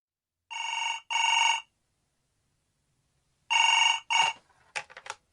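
A telephone bell rings in two short bursts, falls silent for a couple of seconds, then rings twice more before a voice briefly answers.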